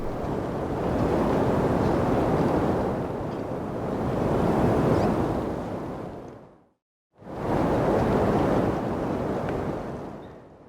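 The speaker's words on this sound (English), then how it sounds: "another sound effect that I added here is also a wind sound effect" Loud, rushing wind sound effect for a motocross commercial, a broad steady roar that swells and eases, cuts out abruptly for a moment, then surges back in.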